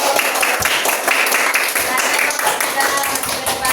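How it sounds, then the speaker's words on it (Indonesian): A class or discussion group claps together, a dense, fairly loud burst of close hand claps lasting a few seconds, with voices mixed in. "Tepuk tangan dulu"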